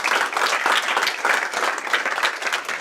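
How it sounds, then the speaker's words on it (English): Applause from a regional meeting audience, a loud, continuous crowd of clapping hands rising and falling slightly over a few seconds, close and full. "let's give these guys a round of applause for being in there."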